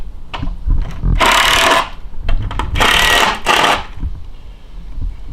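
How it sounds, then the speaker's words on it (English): Screws are tightened on a wooden swing set with a tool, giving a few close, rasping bursts of turning and grinding, each lasting about a second, mixed with small knocks and clicks between them. "go ahead and tighten up the other 2 screws"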